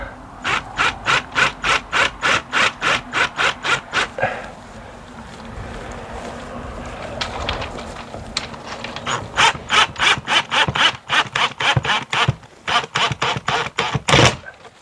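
A screw is tightened while a floodlight is being installed, making rapid, loud ratcheting clicks in repeated bursts with a rubbing, scraping pause between them, close up and without talk.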